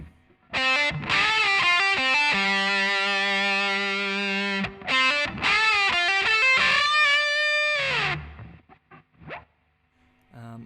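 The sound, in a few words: distorted electric guitar playing pre-solo B section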